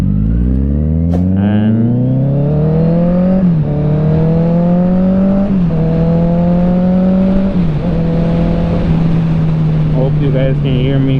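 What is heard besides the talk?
motorcycle riding noise heard through an Icon Airflite helmet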